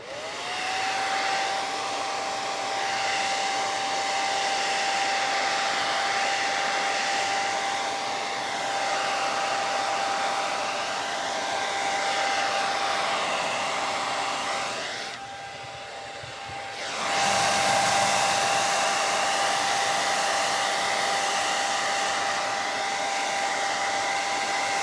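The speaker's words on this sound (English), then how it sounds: "The hairdryer is on low" A hair dryer on its low setting runs as a steady, loud whooshing hum with a faint whine. The airflow dips briefly near the end before carrying on, and no one speaks.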